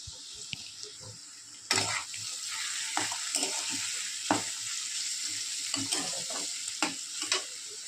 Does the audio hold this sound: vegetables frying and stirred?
yes